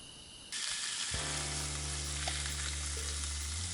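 Samgyeopsal pork belly frying for dinner on a boat, a loud, steady, bright sizzle that bursts on abruptly and continues alongside a low constant hum.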